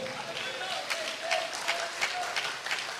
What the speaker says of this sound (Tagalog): Palapakan po natin ang ating mahal na Panginoon